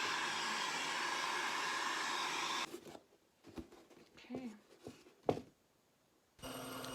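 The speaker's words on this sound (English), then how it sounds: "just gonna give it a little heat again, just to relax the foam into its new shape." A heat gun warms a foam floor mat into shape, its close, steady blowing hiss running for several seconds, then stopping for a stretch of quiet handling clicks before starting up again.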